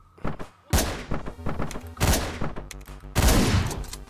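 Gunfire in a shooter video game: dense bursts of rapid shots and heavy thuds come in loud waves across the whole stretch, with a short lull before the second barrage.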